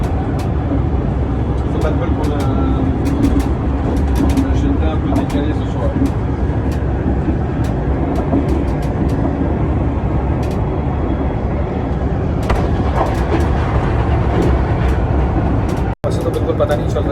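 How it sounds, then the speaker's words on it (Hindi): Thalys high-speed train cruising at close to 300 km/h, heard from inside the carriage as a steady, loud low rumble with rolling roar and occasional clicks, continuous throughout. "बट काफ़ी तेज़ जा रही है ट्रेन।"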